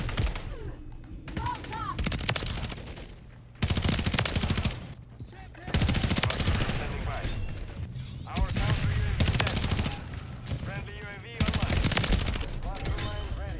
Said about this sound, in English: I was shooting at you.